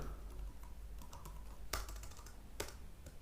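Python code being typed on a computer keyboard, a quiet run of soft key taps with a couple of sharper, louder strikes, close and alone with no talking.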